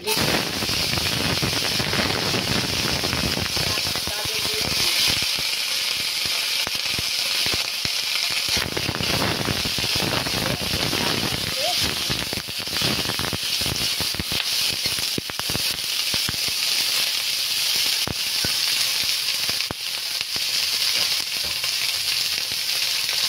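Vegetables frying in soybean oil for Bengali veg polao, a steady loud sizzle with crackling pops and bursts of stirring throughout, no speech over it.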